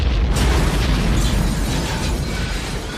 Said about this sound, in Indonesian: bom pun meledak sesuai rencananya